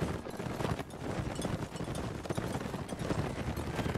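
Rapid, continuous hoofbeats of a horse galloping in Mount & Blade Warband, a dense rumbling thud that stays close and loud, with wind-like noise underneath.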